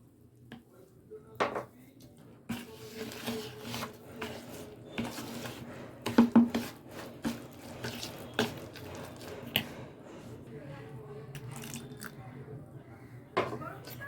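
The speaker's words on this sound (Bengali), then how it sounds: "এখন আমি এর মধ্যে অল্প অল্প করে জল অ্যাড করবো আর একটা ব্যাটার তৈরি করে নেব" Water is poured in gradually while batter is stirred in a bowl, producing soft squishy mixing, dripping, and occasional clinks of utensil against the bowl, with some quiet talk in the background.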